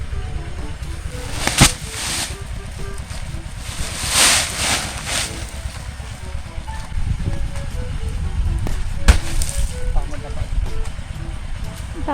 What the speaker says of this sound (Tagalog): Ganito po yung hangin.